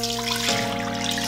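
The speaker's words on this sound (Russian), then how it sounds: "Мы наливаем в кастрюльку, можете взять ковшик." Cream poured into a large cooking pot, a steady close liquid pour that runs continuously without a break, with a faint electrical hum underneath.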